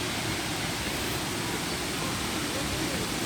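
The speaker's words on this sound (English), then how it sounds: "I want to show you a waterfall" A waterfall in Glenara Forest gives off a steady, unbroken rushing hiss that stays even and moderately loud throughout.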